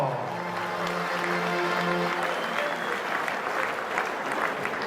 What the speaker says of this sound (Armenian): միաճ ծափարենք ավելի ջիգարով